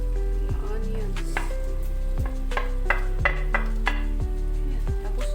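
Chopped onions and greens sizzle in a hot pan for a vegetable stir-fry, with steady close frying hiss and repeated scraping and clanking of a utensil against the pan.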